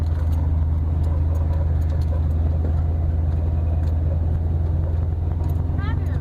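A pickup truck's engine hums steadily as it drives over sand dunes, a continuous low rumble underneath, with no clear talk but faint higher sounds drifting in near the end.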